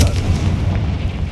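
A Confringo fire-blast spell from the video game Hogwarts Legacy erupts as a loud, dense booming burst with heavy low rumble, sustained through the whole moment without talk.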